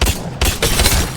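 EVA-8 shotgun in Apex Legends firing four loud, close, heavy blasts at a steady, slightly slow rhythm, each shot a broad booming burst with no talking between them.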